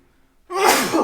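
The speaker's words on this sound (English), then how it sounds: "I'm going to sneeze." A single loud sneeze bursts out after a moment of near silence, close and sharp, with a brief breathy intake leading into it.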